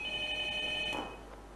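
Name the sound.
telephone ringing for a call-in Quran reading contest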